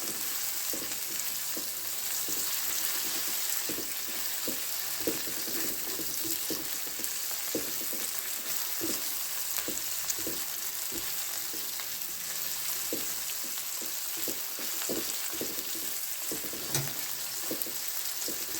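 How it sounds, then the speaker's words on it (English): Onions frying in a pan for a Burmese curry, a constant close sizzle with repeated scraping and stirring strokes throughout and no voices. "I'm just going to fry these onions off."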